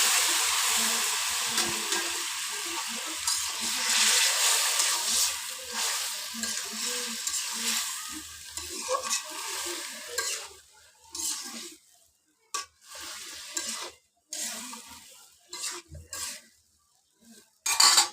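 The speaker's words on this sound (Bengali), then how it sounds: "মশলাগুলো তেল ছেড়ে দিয়েছে এবার এর মধ্যে এই যে তালকুন্ডা মাছ সবগুলো দিয়ে দিলাম" Fish sizzling as it fries in spiced oil in a pan with gourd, strong hiss at first, then scattered stirring scrapes and clinks as the frying dies down.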